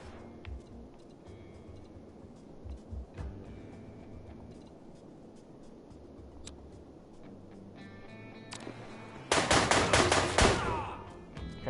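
Gunfire from an SMG in the video game John Wick Hex, with a dense, loud burst of rapid shots near the end after a stretch of quieter ticking game ambience.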